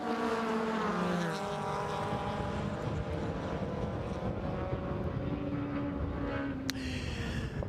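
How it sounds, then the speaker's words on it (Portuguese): AC Cobra V8 historic race car driving on a racetrack during timed practice, a loud, continuous engine drone with rising and falling pitch as it passes, filling the whole stretch. "Davis a correr, portanto, no Cobra V8."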